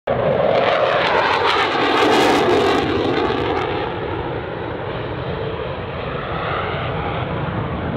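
A JAS 39 Gripen fighter jet flies past at the 2018 NATO Days air show in Ostrava, its loud engine roar sweeping overhead and then settling into a sustained, slightly quieter rumble as it moves away.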